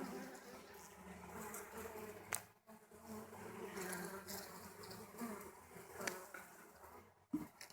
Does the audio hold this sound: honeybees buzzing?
yes